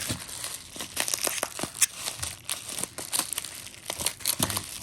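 Close, crisp crinkling and crackling of plastic packaging being pulled open, irregular bursts of rustling and tearing with no talk.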